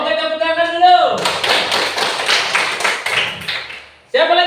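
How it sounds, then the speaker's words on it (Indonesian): Students applaud in a classroom, a dense burst of clapping lasting about three seconds between stretches of a teacher's speech. "Oke, tepuk tangan dulu."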